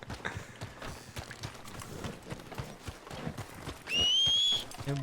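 Horse hooves clip-clop in Red Dead Redemption 2, an irregular patter of steps that runs throughout, with a short, steady whistle-like tone near the end.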